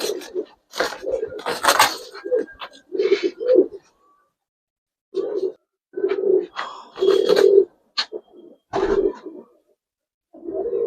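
Gribaz coloring pigeons in a loft give bursts of cooing in short separated bouts, close by, with clattering knocks between them and someone speaking in places.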